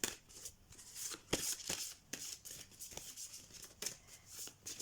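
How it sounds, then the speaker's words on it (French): A deck of oracle cards being shuffled by hand, a continuous close riffling and sliding rustle with repeated sharp snaps as cards fall together, no talking. "J'adore le bruit des cartes"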